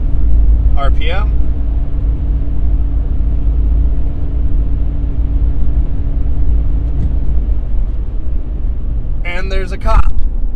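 A Ram 1500 pickup fitted with a Borla S-Type exhaust cruises steadily at 80 mph in 8th gear around 2100 RPM, a constant low drone and road rumble throughout, with brief voice bursts near the start and end.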